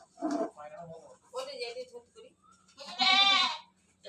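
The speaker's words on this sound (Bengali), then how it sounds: "কেমন করছে ছাগলটা, এরম করছে।" A goat bleats in a few short, wavering calls, close by, with people talking around it.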